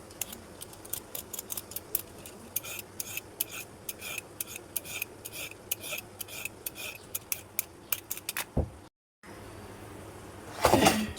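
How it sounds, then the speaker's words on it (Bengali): A spoon scrapes the seeds out of a small cucumber, making a quick run of close, sharp scraping strokes at a steady rhythm, then a short pause and a final louder rub. "শসার ভিতরের বিচিগুলো যদি চামচ দিয়ে এভাবে ফেলে দেওয়া হয় তাহলে তাড়াতাড়ি হয়ে যায়।"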